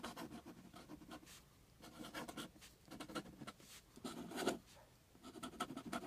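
Pen writing on paper, close and faint, with bursts of scratchy strokes separated by brief pauses in an uneven rhythm.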